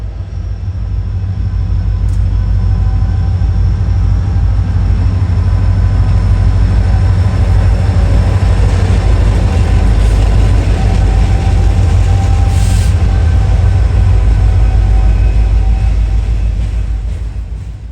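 Freight trains roll through Citico Junction near Chattanooga's DeButts Yard, Tennessee, with a loud continuous low rumble and a steady rhythmic clatter of railcars passing close by; no voices.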